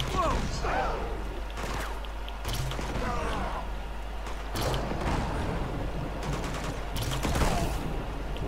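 Grenade launcher fire in Uncharted 2: Among Thieves, heard as several heavy booming blasts over a constant loud rumbling game soundscape, with voices talking in places.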